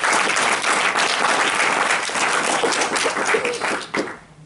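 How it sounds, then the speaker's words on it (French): An audience at a training event in Paris breaks into sustained applause, dense and loud clapping filling the room throughout before tapering off at the very end. "So big applause again for them."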